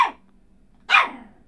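A puppy gives two sharp, close barks, the first trailing off at the start and the second about a second later, with quiet between them.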